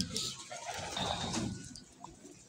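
Pigeons coo softly at a racing pigeon loft in Pagbilao, Quezon, with low repeated murmuring calls close by and faint background noise.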